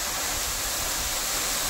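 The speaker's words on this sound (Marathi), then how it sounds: "इथे तुम्ही पाहतात की अजूनही तो धबधबा लाईव्ह आहे" Yeram waterfall in mid-March, a steady, dense roar of falling water that fills the scene evenly and continuously with no pauses or other sounds.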